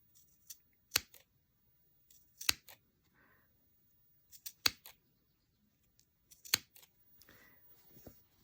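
Scissors snip through layers of flannel to cut quarter-inch rag quilt fringe, giving sharp separate cuts in an uneven rhythm with short pauses, close and quiet.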